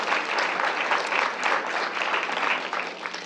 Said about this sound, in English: give them a round of applause for this award